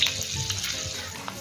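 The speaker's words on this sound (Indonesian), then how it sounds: "lalu kita goreng fukiennya tadi." Fukien tofu fries in hot oil, giving a continuous crackling sizzle with small pops and bubbling, close and moderately loud, with no talking over it.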